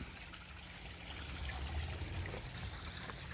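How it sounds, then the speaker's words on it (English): Pond waterfall in a backyard food forest, a steady trickling and splashing of recirculating water that stays even throughout with no talk, heard alongside a low background rumble. "Waterfall adding the oxygen, recirculating it."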